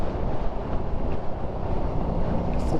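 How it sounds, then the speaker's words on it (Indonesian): Strong, steady wind buffeting the microphone while touring on a small automatic scooter-style motorbike, a loud continuous low roar that fills the clip with no speech. "angin kali ini cukup lumayan kencang ya"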